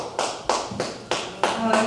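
A few scattered claps break out from a town forum audience at a League of Women Voters selectman forum in Warner, short sharp bursts spaced unevenly among murmuring voices.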